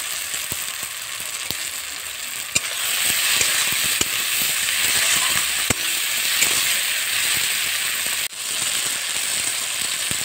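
Green chili and ginger paste sizzle hard in hot oil with a fish curry masala, a loud, continuous hiss broken by scraping stirs and clicks, with no one talking.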